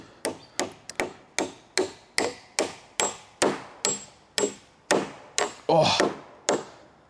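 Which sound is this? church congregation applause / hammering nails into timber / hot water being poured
hammering nails into timber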